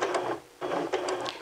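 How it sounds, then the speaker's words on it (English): A sewing machine backstitching fabric runs in two quick mechanical bursts separated by a brief pause. "I want you to backstitch at this point a couple of stitches"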